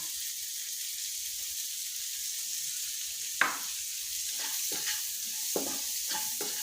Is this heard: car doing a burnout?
no